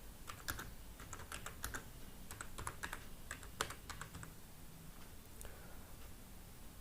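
Fingers typing on a computer keyboard, a quick, uneven run of close, crisp key clicks in a quiet room, with no talking.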